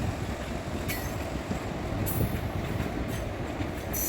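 A train passes through Ingur railway station in a loud, continuous rumble of railcars, with rhythmic wheel clatter and occasional high squeals from the wheels.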